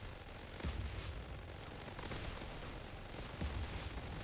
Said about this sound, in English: The Vector in a lot of games is considered a submachine gun, an SMG.